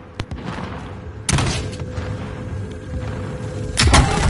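Bursts of gunfire crack out in Warzone, a few isolated shots then heavier volleys, loud and close against a rumbling background.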